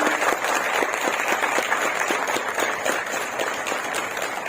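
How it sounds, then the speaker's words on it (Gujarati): Steady, dense clapping from a large audience at a product training program in Botad rolls on without pause, close and loud throughout. "શરૂઆત કરાવી એના માટે એકવાર જોરદાર તાળી."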